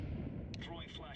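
A grenade explodes in a video game with a faint, muffled low boom that rolls into distant gunfire-like crackle, under quiet voice chatter.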